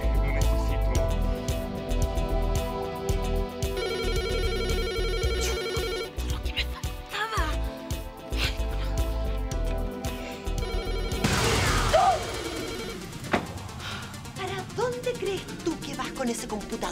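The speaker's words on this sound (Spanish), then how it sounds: "El teléfono. El teléfono, por favor. Urgente." A telephone rings repeatedly in a steady, insistent pattern, loud and close, with music and scene sounds underneath; the ringing breaks off partway and a voice is heard afterward.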